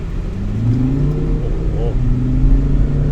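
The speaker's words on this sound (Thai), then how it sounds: "รอบเครื่องดีเซลนะครับ มันจัดมากนะครับ เหยียบปุ๊บฟรีเลยนะ" A Volvo XC90 D5 2.4 AWD diesel SUV engine revs up strongly, its low drone climbing in pitch, loud and close, with someone speaking over it.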